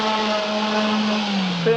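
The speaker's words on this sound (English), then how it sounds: "Now the orbital sander is what I use to take off all these burrs." An orbital sander runs close by with a steady, droning motor whine as it smooths burrs off the cut edge of a wooden longboard blank, holding one even tone with no pauses.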